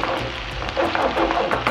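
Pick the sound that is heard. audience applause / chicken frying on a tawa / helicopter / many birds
chicken frying on a tawa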